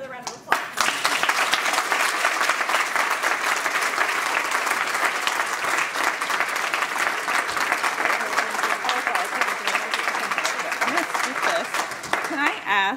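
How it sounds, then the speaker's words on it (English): Sustained applause from an audience at a presentation event, dense and steady clapping that fills the whole stretch at even loudness, with some crowd noise mixed in. "Let's give her another round of applause."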